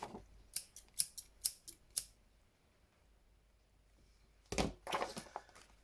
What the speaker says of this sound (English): I think what we need to do is cut out the flower.